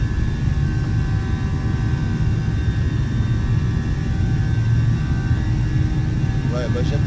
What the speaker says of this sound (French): Voilà, là on entend bien les moteurs qui sont des CFM.